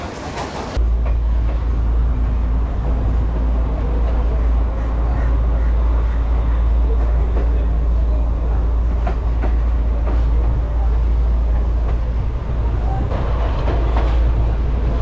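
Train riding along the coast past beach settlements near Kalutara, Sri Lanka, heard from on board as a loud, steady rumbling roar with faint rhythmic clatter of the carriages, after a brief opening noise.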